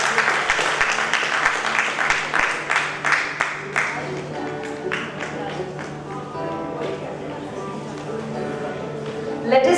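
Audience at an awards ceremony applauding, a dense wash of clapping that starts strong and then thins and fades, with music or a voice running underneath.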